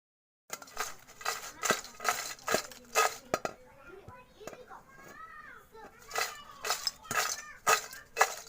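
Crispy homemade fried potato chips rattle and clatter in a series of sharp, rhythmic bursts, close and fairly loud, with a brief quieter stretch midway where faint voices can be heard.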